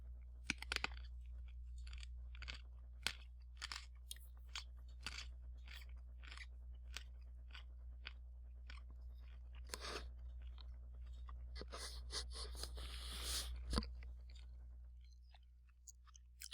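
Someone chews crunchy food close to the microphone, with many sharp, irregular crunches and bites spread over a steady low hum in an otherwise quiet room.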